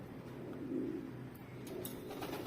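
A racing pigeon coos softly at its home loft in the evening as birds return from a race, a faint low warble over quiet background hiss.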